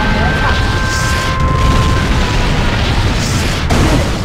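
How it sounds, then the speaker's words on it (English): A nuclear missile strike in Red Alert 2 makes a dense, roaring explosion that rumbles loudly and continuously with a deep low-end boom throughout, while a game announcer voice speaks over it. "Nuclear missile launched."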